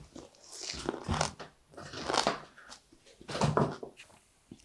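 Crisp bites and crunchy chewing of rolls made with pickled green onion, nori and egg, three distinct bursts of mastication close to the mic with quiet pauses between.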